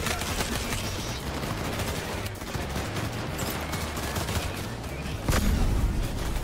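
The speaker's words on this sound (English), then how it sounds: "the guns sound and feel pretty good" Dense gunfire from a bank-robbery shootout in Payday 3, a steady barrage of rapid shots with a heavier burst near the end, under faint background voices.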